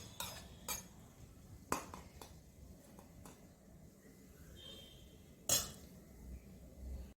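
Dry fruits are stirred into a sweet mixture with a spoon in a metal pot, giving a few sharp clinks and scrapes spaced apart over a quiet, soft background.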